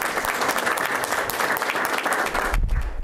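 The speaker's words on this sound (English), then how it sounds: "Round of applause for them." A short burst of lively applause for Complete Count Committee members at a 2020 Census news conference, dense clapping from a small group close by, tapering at the end.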